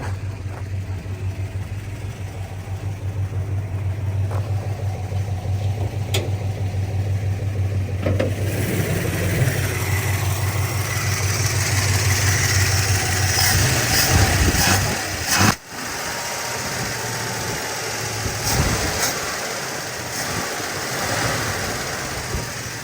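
A badly running car engine sits at a high idle, a steady, close drone that holds for a long stretch, then shifts and roughens partway through, with a brief sharp dip and occasional talk.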